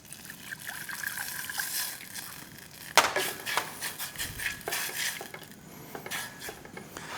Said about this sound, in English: we're gonna add our water.